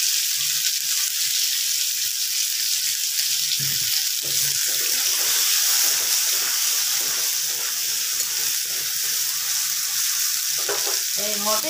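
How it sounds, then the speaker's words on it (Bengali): Tomatoes added to potatoes frying in oil in a pan, giving a steady loud hiss of sizzling with soft stirring knocks underneath throughout. "আলুটা একটু ভেজে নিয়ে এর মধ্যে দিয়ে দেবো এবারে টমেটোগুলো।"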